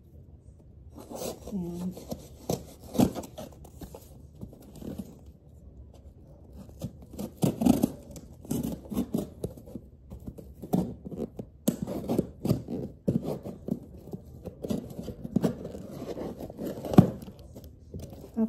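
A Forever 21 clothing package being opened, with repeated rubbing, rasping and tearing of plastic wrap in bursts, close up, while someone talks over it now and then.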